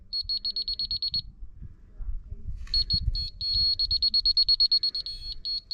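A laser level receiver emits rapid high-pitched beeps in quick repeating bursts, pausing briefly and then resuming, heard over quieter background talk and handling noise on a construction site fitting I-joists into ICF walls.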